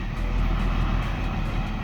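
A tow truck's engine drones steadily as it pulls away from a wrecked 2015 Jeep Wrangler. The rumble is low and continuous, with no voices.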